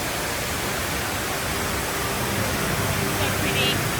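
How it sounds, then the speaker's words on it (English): Cascading water of the indoor Rain Vortex waterfall at Changi Airport in Singapore, a dense steady roar filling the space without a break, with voices faintly mixed in. "follow the sound of cascading water to find it"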